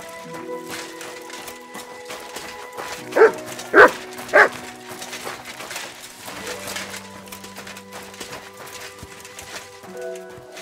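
Three sharp, loud barks from the dog Mutz in Kingdom Come Deliverance 2, evenly spaced over a quiet game backdrop of footsteps and faint ambient tones.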